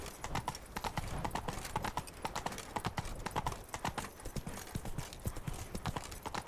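Hooves beat in a rapid, steady gallop from a horse in the video game Witcher 3: Blood and Wine, close and continuous clip-clop over faint background sound.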